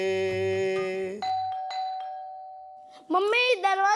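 A doorbell chimes loudly with a sustained ringing tone, cut off and followed by a softer second ring, then a person begins speaking near the end.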